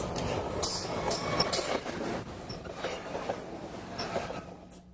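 An Amtrak train on the Northeast Corridor rumbles past trackside close by, steady rolling noise with rhythmic wheel clatter and faint high squeals, continuing throughout.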